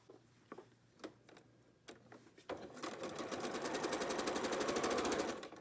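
A sewing machine stitches rows of a quilt block together, starting with a few separate clicks and taps before settling into a steady, fast mechanical whir that runs several seconds, close and clear with no talking.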